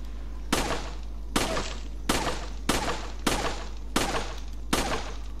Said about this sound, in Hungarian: Ja, hogy én csak a falat lövöldözöm